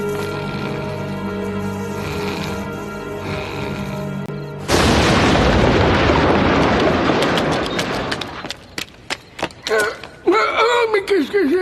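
In an animated medieval adventure scene, a black powder charge blasts a door: a sudden loud roaring boom after a tonal buildup, long rumbling debris falling, then scattered thuds and clatter.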